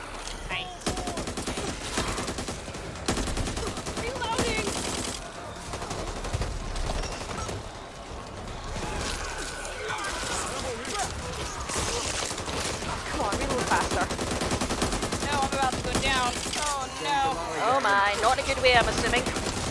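Rapid bursts of gunfire in the video game Back 4 Blood crackle through the clip, with scattered shots and explosions layered under ongoing player chatter.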